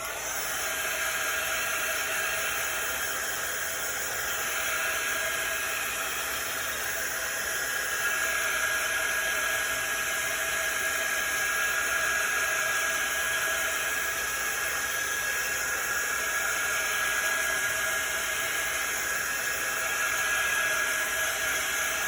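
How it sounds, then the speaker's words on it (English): A quick-dry heat tool blows steadily over freshly applied chalk paste, a continuous close whooshing hiss with a faint tonal whine, running unbroken and alone. "I love our quick dry tool."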